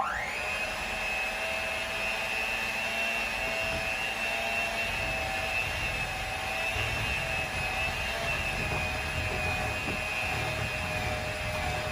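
An electric mixer whirs steadily as it blends cream cheese pound cake batter, a high continuous motor whine with faint scraping in the bowl beneath.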